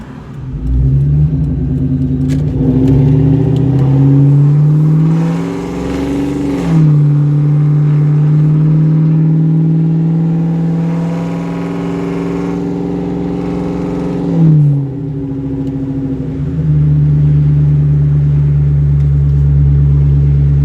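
Deep V8 exhaust rumble from a 2003 Ford Mustang GT being driven, revving up through several gear changes with rising pitch sweeps and drops, loud and close from start to finish with no talk.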